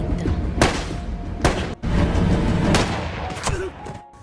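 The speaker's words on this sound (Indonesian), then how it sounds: "Jim memberi pistol kepada Miguel untuk melepaskan 2 tembakan sebagai pengalihan." Several sharp pistol shots ring out one by one in a tense action-film scene, each a loud, abrupt crack spaced roughly a second apart over a rumbling background.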